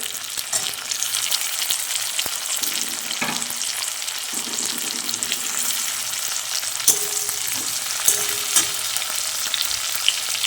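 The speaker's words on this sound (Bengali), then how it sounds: "এর মধ্যে দিয়ে দেবো টমেটোগুলো" Tomatoes frying in a pan with already browned onion and garlic for a restaurant-style egg tadka: a steady, close sizzle with occasional stirring clicks and scrapes.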